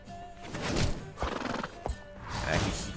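Roach the horse neighs and whinnies in the Gwent card game, a loud close whinny followed by a second call, with clip-clop hoof sounds between them.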